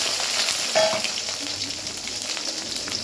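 Small garlic cloves, about 100 grams, sizzle and crackle steadily in hot oil for a garlic kuzhambu, a dense continuous frying hiss with faint clinks, close and fairly loud throughout.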